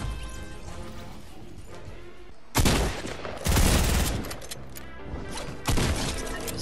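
Gunfire from rapid-fire SMGs in Fortnite comes in a few loud, dense bursts with short gaps between them, layered over ongoing game noise.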